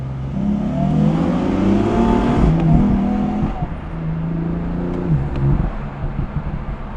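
BMW M4 engine revving hard under brake boost with tires spinning, a loud sustained near roar that wavers and surges for several seconds, with no talk.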